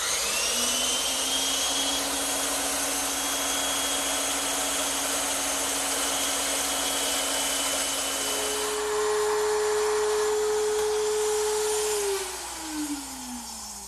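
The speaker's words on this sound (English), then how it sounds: "I'll just hold a couple pieces together and cut them on the bandsaw" A bandsaw runs steadily while cutting half-inch wood stock into wedges, a loud continuous motor whine and broadband cutting hiss that shifts pitch partway through, then winds down toward the end.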